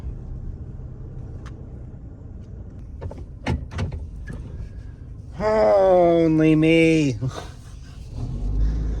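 A loaded pickup truck drives along with a steady low engine rumble throughout, broken by a few interior clunks and a rising whine in the middle. A person speaks briefly.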